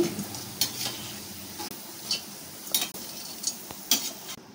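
Ivy gourd (dondakaya) fries in oil with a steady sizzle, punctuated by several sharp scrapes and clinks of a spoon stirring the pan at roughly regular intervals; no talking.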